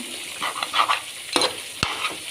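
Oil sizzles steadily in a pan as fish and pork fry, with a few scraping stirs and a sharp clink of a utensil.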